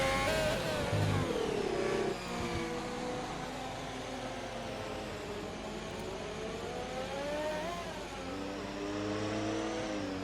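A race car on a hot lap at Abu Dhabi, its engine revving hard with rising and falling pitch through gear changes, a continuous loud close drone with no talk.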